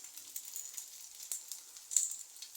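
Cheese pancakes (syrnyky) sizzle softly in a frying pan, a quiet steady crackle of hot oil with small pops and one slightly louder spit near the end, no voices.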